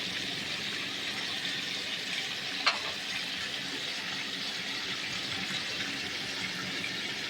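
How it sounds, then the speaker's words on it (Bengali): Onions fry in a kadai for mutton biryani, a soft continuous sizzle and crackle with one brief clink of a utensil midway. "সেই কড়াইতেই আমি পেঁয়াজ লাল করতে দিয়েছি"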